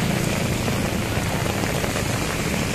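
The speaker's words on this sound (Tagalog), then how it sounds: "Grabe guys, lakas ng ulan oh." Heavy rain pours down steadily, a loud, dense wash of drops drumming on surfaces, constant with no pauses.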